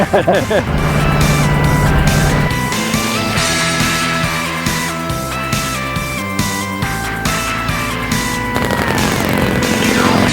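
A car engine roars steadily at speed during Bonneville Speed Week on the salt flats, its pitch rising and shifting through the gears, with people talking over it throughout.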